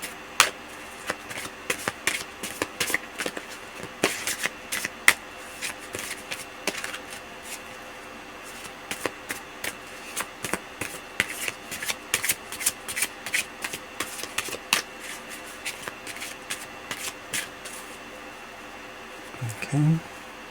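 Tarot cards are shuffled close by in a steady run of crisp riffling clicks and flutters that continue almost without pause, with a brief low sound near the end.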